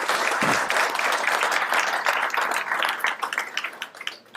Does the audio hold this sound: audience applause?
yes